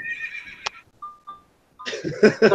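A Farmer Says toy plays a recorded horse neigh after its pointer is spun: a clear, near whinny, then two short electronic tones and a further burst of toy sound.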